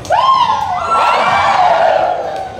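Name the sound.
crowd shouting and cheering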